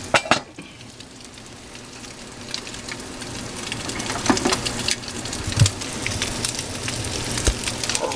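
Spam browning in a frying pan sizzles steadily while potatoes and onions are tipped back in, with a few scraping stirs and clatters over the continuous crackle; no voices.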